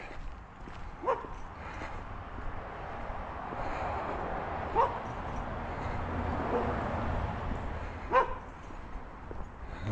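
Several excited dogs bark in a few sharp, separate bursts at a moderate distance during an evening outdoor walk, heard over steady background noise.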